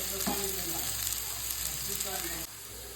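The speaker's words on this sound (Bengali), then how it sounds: "আস্তে আস্তে ভাজতে হবে এটাকে" Small new potatoes fry slowly in a pan, giving a quiet, even sizzle throughout with a few faint stirring scrapes, and the level drops a little near the end.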